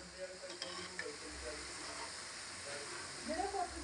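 Gobi (cauliflower) koftas fry in hot oil with a steady soft sizzle and hiss, faint and close, with a voice speaking over it.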